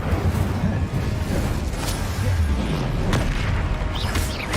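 Incendio fire spell cast in Hogwarts Legacy, heard as loud, continuous booming bursts and crackling blasts in the midst of a busy spell-casting fight.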